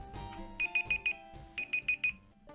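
A timer alarm in the video game Pokémon Fire Red/Leaf Green beeps in two quick bursts of four high, even tones, ringing over a busy game music backdrop.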